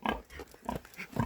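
Pig grunting close by on a farm, three short rhythmic grunts spaced about half a second apart, moderately loud with no talk.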